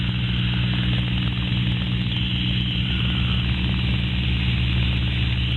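A Spitfire's piston engine runs loud and steady at close range while the aircraft taxis, a continuous deep roar with a strong low throb and no pauses.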